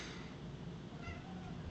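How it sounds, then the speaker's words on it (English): A house cat meows faintly indoors, barely rising above a steady background hiss, with no talking. "If you can hear that meowing, that's just my cat, Mufasa"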